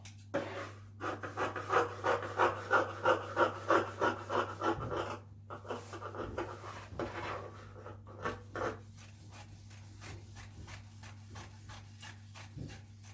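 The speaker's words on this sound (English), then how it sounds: "so I'm just going to cut that off." Fabric for a peplum top being cut with scissors, a steady run of soft rhythmic snipping and rustling strokes that fades into quieter scattered cuts, with a constant low hum underneath.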